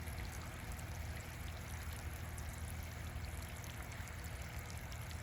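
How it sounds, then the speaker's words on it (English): Water flowing through a small irrigation pipe system on a hulless oat plot, a steady, continuous rushing and trickling wash that stays even and fairly close throughout with no talk. "I've got the water on and you can see how this little system works."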